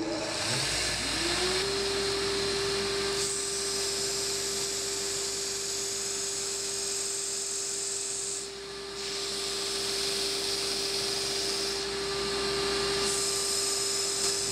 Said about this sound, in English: We're going to sand some balsa wood